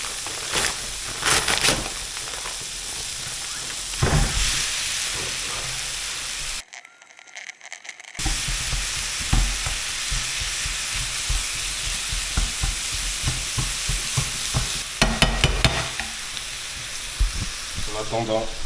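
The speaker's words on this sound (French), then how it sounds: "Maintenant, on va rajouter la viande." A kilo of ground beef for chili con carne fries and is stirred in a pan, giving a steady close sizzle with scraping stirs and a brief drop-out partway through.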